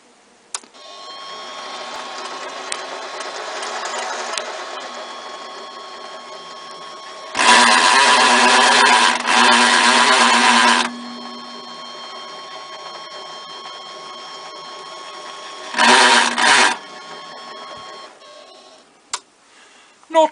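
A Clarke CL300M lathe with a faulty drive belt runs with a steady whine and hum, swelling into two louder, rougher bursts of grinding noise before settling again, close and alone without talk.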